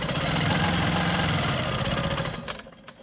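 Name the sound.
Quilt Maker Pro 20 quilting machine stitching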